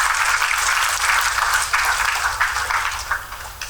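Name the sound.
audience applause at road safety week launch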